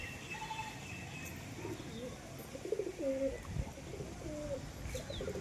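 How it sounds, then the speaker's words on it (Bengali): Pigeons coo softly in short, murmuring calls over a quiet outdoor background, with a few faint chirps from other birds mixed in. "এই যে একটি কবুতর সাথে ঘুরছে"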